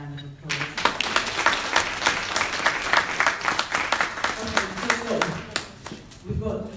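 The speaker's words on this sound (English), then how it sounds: "I think she deserves a round of applause." Audience at a women-in-politics forum breaks into a round of applause, dense clapping sustained for several seconds with a few voices faintly mixed in before it tapers off.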